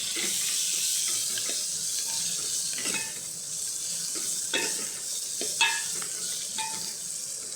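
Cumin seeds stirred into sizzling hot oil in a pan for a lady finger gravy, with steady broadband frying hiss throughout and several sharp clinks and scrapes from the stirring spoon, close and alone with no talking.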